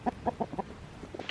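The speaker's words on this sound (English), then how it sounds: "My chickens sound like they're sneezing this morning." Backyard chickens give a quick run of short, sharp clucks that sound like sneezes, four evenly spaced bursts followed by a few softer ones, close and fairly quiet, no talking.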